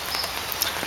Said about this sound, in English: Okay, we're getting rained on.